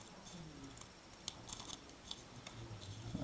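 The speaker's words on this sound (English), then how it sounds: "Cut a little bit out over here." Scissors snip through folded paper to cut a hexagonal snowflake, a few faint, close crisp cuts scattered over a quiet background.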